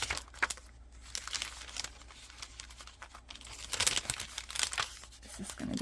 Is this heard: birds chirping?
no